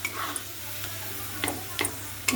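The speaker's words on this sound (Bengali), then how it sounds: "নাড়ছি" Paneer curry with whisked yogurt being stirred in a pan: a handful of sharp spoon scrapes and taps over a soft simmering sizzle and faint low hum.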